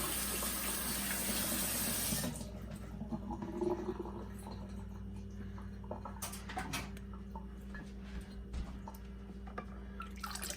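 A tap runs steadily into a sink while brass instrument parts are rinsed, the water hiss loud at first and then quieter with scattered clinks and drips, no talking.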